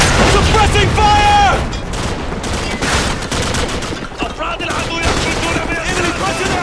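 Dense suppressing gunfire in Call of Duty 4 during the Bog mission: loud, rapid overlapping rifle and machine-gun bursts with booming impacts, under shouted in-game voices.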